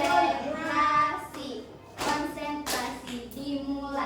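Children at an anti-bullying school event at an elementary school clap hands in a rhythmic classroom clapping game, close and fairly loud, with bursts of claps separated by brief pauses and some chatter from the kids.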